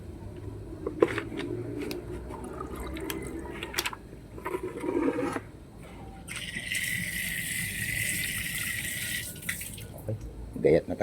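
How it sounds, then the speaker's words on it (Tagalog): A tap runs water into a pot of mussels in a home kitchen, a bright, steady rushing stream that lasts several seconds after earlier clatter and brief splashes, with someone talking at times. "Ito natin lagyan ng tubig."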